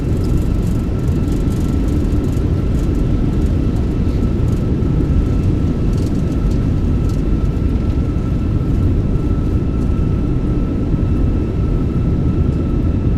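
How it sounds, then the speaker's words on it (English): Thrust reversers of a Fenix A320 roar on landing roll at Schiphol in a flight simulator, a loud, steady low engine rumble with a thin whine held constant throughout, no talking. "Reversers are out. Decelerating."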